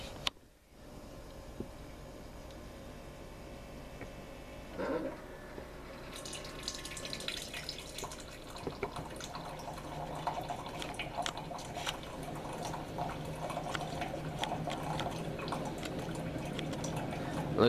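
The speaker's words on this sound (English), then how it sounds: "Look at that goodness being poured in that cup." A coffee machine at a Tim Hortons brews and pours coffee into a John Deere cup, with quiet mechanical humming, then a steady trickling, splashing stream filling the cup that grows a little louder toward the end.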